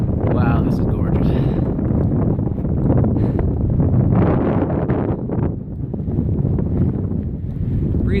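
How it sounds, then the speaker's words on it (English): Steady, breezy wind buffets the microphone on the open, grassy summit of Max Patch Mountain along the Appalachian Trail, a continuous low rumble with gusts throughout, while someone speaks over it. "Breezy up here, probably sustained 15 miles an hour probably."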